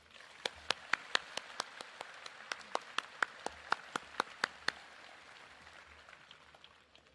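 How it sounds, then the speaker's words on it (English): A round of applause at the Dorman High School Class of 2022 graduation comes through as a quick run of sharp, evenly spaced claps. It sounds like a small group or even a single clapper, and it thins out to quiet room tone after about five seconds. "Please join me in a round of applause for our distinguished guest."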